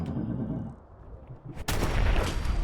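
A gunshot in a Fallout game fired at close range: a low ambient rumble fades, then one sudden loud crack bursts in and is followed by a dense, noisy roar that holds to the end.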